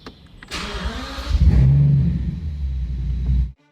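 A damaged Rolls Royce Wraith starts up and pulls away, a sharp mechanical whir giving way to a loud close engine rumble that holds steady before cutting off abruptly.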